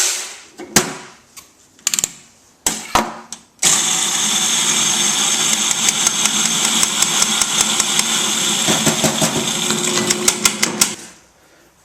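Coffee beans being ground on a coarse setting in an electric coffee grinder: a few short bursts, then a loud, steady grinding whir for several seconds with rattling ticks of beans before it stops.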